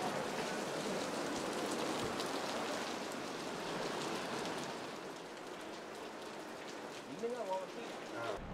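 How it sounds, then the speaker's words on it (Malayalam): Heavy rain falls in Poombarai village in the Kodaikanal hills as a constant, enveloping roar of drops. A faint voice surfaces briefly near the end. "മഴ ഒരു രക്ഷയില്ല."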